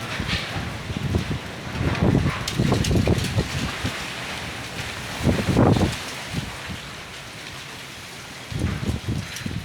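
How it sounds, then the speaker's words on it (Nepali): Strong wind at Namche, Nepal, roars and buffets the microphone in gusts, a rough, steady rush with louder bursts and no talking. "कस्तो हावा आउँदैछ यहाँ"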